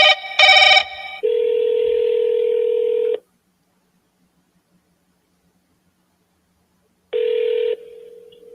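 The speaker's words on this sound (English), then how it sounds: "Double dial this guy." A phone call is placed with tones: a quick burst of dialing beeps, then a long steady tone, several seconds of silence, and a short tone at the end, with no voices.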